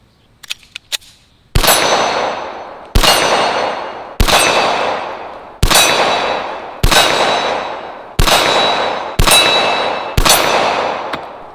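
Handgun shots, including a Smith & Wesson 1911 E-Series .45 ACP, strike a steel gong target outdoors, giving seven loud metallic clangs spaced about a second and a half apart, each ringing out briefly after the impact, with faint clicks beforehand.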